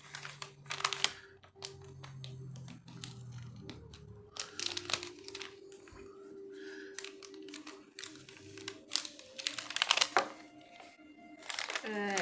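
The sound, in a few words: knife cutting through sticker and opening witch box packaging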